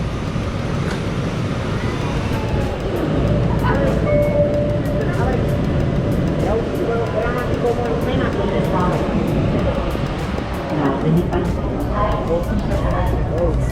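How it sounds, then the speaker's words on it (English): Steady, loud rumble of a Vienna underground train in motion, with continuous low roar and rattling, and faint voices mixed into the background. "Now I'm in the train, underground."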